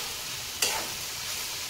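Vegetables stirred and fried in a kadai, a soft sizzle broken by a single sharp scrape or stir stroke, then a steady low hiss, with nobody talking.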